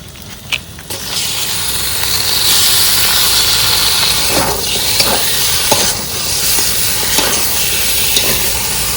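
Chicken pieces go into a pan of fried spices and turmeric, Bengali style, setting off a loud, steady sizzle and hiss that swells after the first second, with stirring scrapes and utensil clacks on top.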